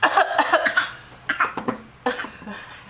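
A young child coughs repeatedly in short, close bursts, with a few brief pauses and some throat clearing between them.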